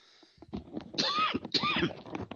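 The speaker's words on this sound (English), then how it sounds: "imagine coughing right out of the gate" A man, the host of an online civics program, coughs twice in quick succession, each cough loud and close with a harsh, ragged burst, preceded by faint breathing and small mouth noises.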